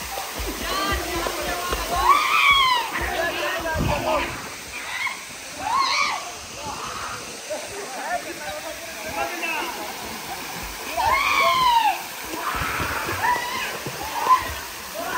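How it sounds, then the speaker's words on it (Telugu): A waterfall pours forcefully onto stones as a steady, loud rushing roar that continues without a break. A voice talks intermittently over the water throughout. "అండ్ వాటర్ పైనుంచి వస్తున్నాయి కానీ చాలా అసలు ఇట్లా ఫోర్స్గా పడుతున్నాయి"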